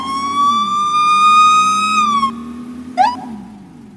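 A loud ambulance siren from the video game Brick Rigs, on a 2020 NHS ambulance, wails in a long steady tone, then drops away abruptly, followed by a brief rising yelp that fades over a low vehicle hum.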